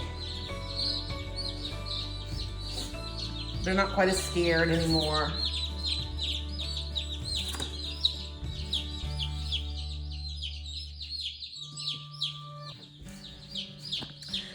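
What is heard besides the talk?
chickens chirping and clucking after leaving the box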